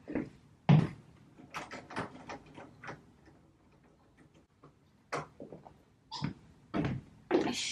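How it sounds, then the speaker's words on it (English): Window blinds are opened indoors with a scattered series of light clicks, taps and rattles, some sharp and close, with quiet gaps between them. "let me open these blinds"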